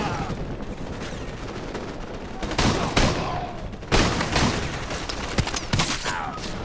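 An M4 Benelli semi-automatic combat shotgun fires in a Call of Duty mission: several sharp, loud blasts, some in quick pairs, over a constant noisy battle backdrop.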